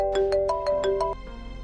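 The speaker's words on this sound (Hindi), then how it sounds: "फिजा क्यों कॉल करी?" A phone's electronic ringtone plays a short, bright melody of repeating beeping notes, loud and clear with no voices.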